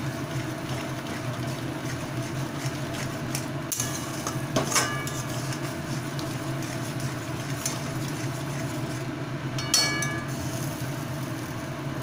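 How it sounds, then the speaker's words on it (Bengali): Poppy seed paste being stir-fried in a pan, with a low continuous cooking rumble and occasional sharp clinks of a utensil against the pan, two of them more prominent. "পোস্তটাকে ভালোভাবে কষিয়ে নিচ্ছি"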